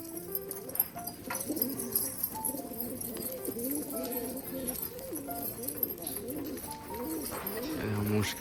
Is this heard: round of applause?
no